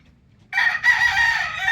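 A fighting rooster crows once, loud and close, the call starting abruptly after a short quiet moment and holding strong to the end.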